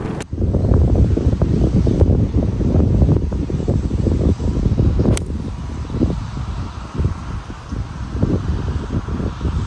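Steady wind gusting across an open golf course on a par 3 hole, a broad, loud rumbling roar buffeting the microphone throughout, with faint rustling and no speech.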